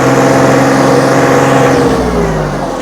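A 2022 John Deere 3033R compact tractor engine running on auto throttle, a steady loud mid-pitched drone with a slight shift in pitch toward the end, heard up close with no voices.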